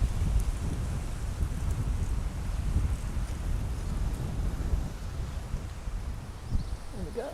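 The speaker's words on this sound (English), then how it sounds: "got a big gust of wind." A big gust of wind blows outdoors in a garden at Auckland's Suffragette Steps, New Zealand. It makes a heavy, continuous rumbling buffet across the microphone that stays loud throughout, with brief swells and no speech.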